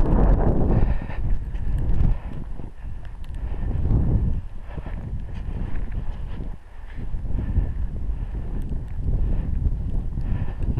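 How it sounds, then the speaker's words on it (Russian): Footsteps crunch and pack down snow on a wind-drifted road beside a field during a March snowfall near Moscow. The steps are heavy and uneven, with gusting wind noise throughout. "Снег трамбуется немножко под ногами."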